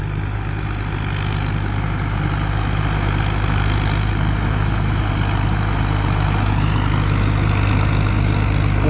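The heavy diesel engine of a rice combine harvester drones steadily nearby, a constant low rumble with mechanical clatter, running without pause throughout.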